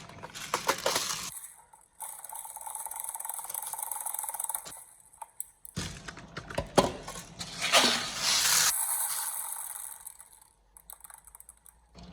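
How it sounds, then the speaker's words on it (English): Steel BBs being loaded into the magazine of a TM Mk18 NGRS airsoft rifle make a quick run of small metallic clicks, rattles and ticks. The bursts come close up and stop and start, with brief quiet gaps between them. "So we're going to put some ammo in it."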